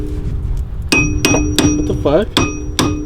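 Sharp metallic hammer blows ring out one after another, about six in all, spaced unevenly and loud up close, while a coilover is being installed on a car; a man briefly exclaims between strikes.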